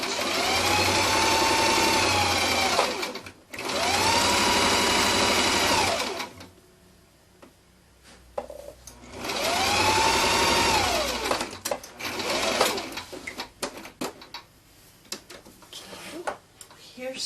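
A sewing machine stitching fabric along a seam on a dog garment, running in two long steady whirring bursts separated by pauses filled with handling clicks and rustles, loud and close.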